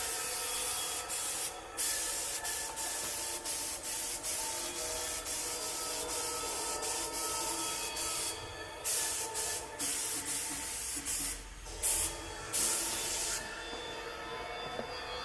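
A spray gun or aerosol can paints Rays Gramlights wheels for a Nissan S15 drift car in short repeated bursts of hissing spray separated by brief pauses, close and steady, with no voices.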